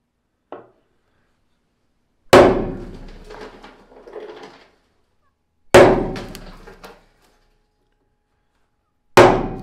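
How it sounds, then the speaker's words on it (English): Three sharp metallic hammer strikes on a center punch into metal, spaced a few seconds apart, each ringing briefly, with a faint tap before the first; close and fairly loud. "Get them with the real center punch so that your drill bit will follow them."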